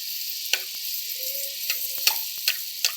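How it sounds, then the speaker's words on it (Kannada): Puris deep-frying in hot oil give a steady bright sizzle, close up, with a few sharp clicks and taps from the utensil. No one speaks. "ಇವಾಗ ನೋಡಿ ಎಣ್ಣೆ ಕಾದಿದೆ, ಪೂರಿ ಹಾಕ್ತಾಯಿದ್ದೀನಿ."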